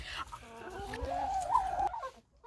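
A chicken clucks close by in a rising, warbling call lasting about two seconds. It is fairly loud against faint background noise.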